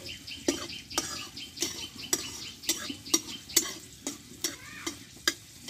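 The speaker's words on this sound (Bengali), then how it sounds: "দেখো রসুনটাও ভাজা হয়ে গেছে, রসুনগুলো আমি তুলে নেব" Garlic cloves fry in a pan of hot oil with a soft steady sizzle, while a utensil stirs and scrapes in a regular rhythm of about two sharp clicks per second, close and moderately loud.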